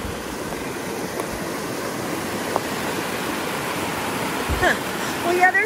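Creek running with snowmelt along the Wawona Meadow Loop in Yosemite, a steady rushing wash close by, with a brief voice and faint rustling near the end.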